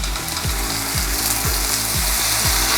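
Strips of orange-glazed steak frying in oil in a stir-fry pan give off a loud, constant close-up sizzle. Soft low knocks from stirring recur about every half second beneath it.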